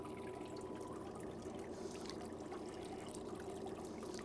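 Water pours steadily into the tank of a Jensorter Model BCM fish egg counter, a faint, continuous rushing trickle with no breaks.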